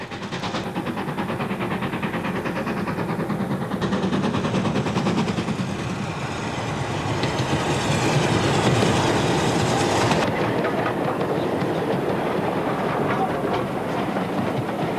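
Newly restored steam locomotive 75014 works along the North York Moors Railway, a loud, steady rumble of engine and rolling stock with rhythmic rail clatter building as it passes close by.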